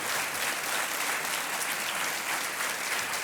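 Studio audience on the KBC quiz show breaks into sustained, dense applause after a contestant wins 3,20,000 rupees, a steady loud wash of many hands with no voices over it.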